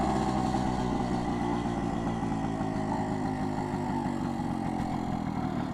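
A BSA Bantam D3 motorcycle's small two-stroke engine running steadily at a constant idle-like pitch, close and continuous with no talk.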